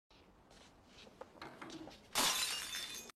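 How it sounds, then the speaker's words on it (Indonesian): A drinking glass is dropped and shatters loudly near the end, a sudden bright burst of breaking glass following a stretch of quiet room sounds and faint rustling. "tak sengaja Ji-oh menjatuhkan gelas"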